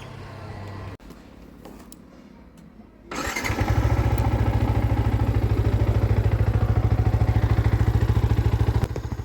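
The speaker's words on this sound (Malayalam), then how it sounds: "ഈ ബൈക്കിൻ്റെ ശബ്ദം ഞാൻ കേൾപ്പിച്ചു തരാം." A 2023 Yamaha MT15 version 2 motorcycle is started close by, then settles into a loud, steady, evenly pulsing idle through its silencer, with no talking.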